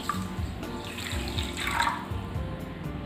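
Water is poured from above into sugar in a cooking pan, a short splashing, trickling stream that swells then tapers, close by with no speech.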